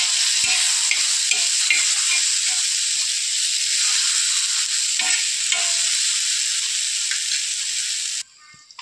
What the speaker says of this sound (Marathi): मसाला छान आपला आता भाजून झालेला आहे